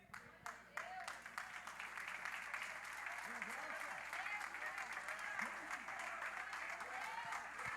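A church congregation at an evening service applauds, with a dense, steady wash of clapping and possible foot stamping that runs throughout, and voices mixed into the crowd noise.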